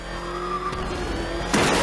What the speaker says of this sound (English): He's crushing the car!